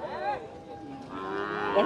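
A cow moos at a muddy outdoor cattle market, one loud, close, drawn-out call that rises and falls over about two seconds.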